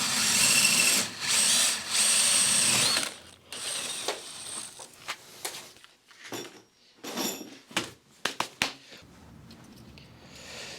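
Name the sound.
drilling holes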